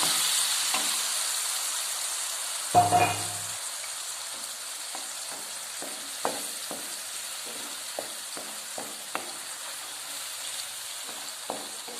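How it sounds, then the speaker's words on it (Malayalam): Soft, steady sizzling of vinegar boiling in a hot pan for fish pickle, with occasional clinks and scrapes of a utensil stirring. "ഇപ്പോൾ വിനാഗിരി തിളച്ചു."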